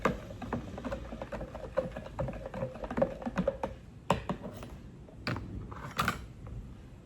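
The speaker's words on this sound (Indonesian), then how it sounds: "Setelah itu kita aduk-aduk." Irregular light clinks and taps of a utensil against a jar as detergent is stirred into water, with soft swishing of liquid, quiet and close.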